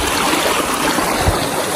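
A mountain stream of ice-cold snowmelt water near a lake rushes steadily, a loud continuous close-up gush with no other sounds over it.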